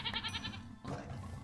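A goat in a modded Minecraft game bleats in a quick series of short, wavering calls, then gives a brief second bleat, fairly faint over quiet background game ambience.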